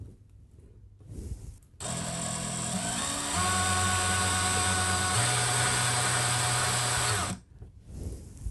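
A power drill drives drywall screws into a damaged wall while a picture is rehung. It whirs loudly for about five seconds, stepping up in speed partway through, and quiet room tone comes before and after.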